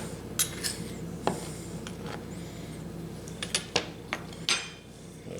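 A knife works through a sous vide ribeye steak on a board, giving sparse light clinks and taps of metal against dish and cutting surface at close range, with short quiet gaps between strokes.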